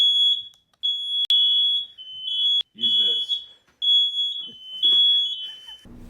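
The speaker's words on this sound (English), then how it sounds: "my fucking fire alarm went off" A smoke-style fire alarm shrieks in a loud, steady high-pitched tone with brief gaps, continuing while a person talks briefly over it nearby.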